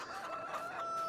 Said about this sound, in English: So I can hear the chickens.